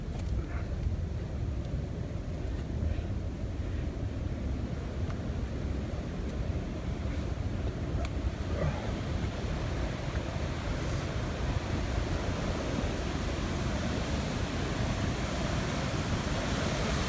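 Rushing water of a waterfall seen from above it on an outdoor trail, a steady broadband roar that fills the whole stretch with no pauses and no voices.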